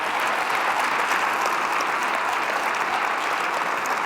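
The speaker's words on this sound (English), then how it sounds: "Please give the panel a big round of applause." An audience at a university panel discussion applauds the panelists, a loud, even, continuous roar of clapping hands filling the room for several seconds.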